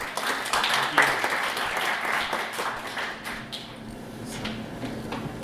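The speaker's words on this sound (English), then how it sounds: "Please give him a round of applause" A conference audience at a Drupal tech event claps for a speaker being introduced. The applause is moderate and steady, with a few louder claps near the start, and tapers slightly in the later seconds.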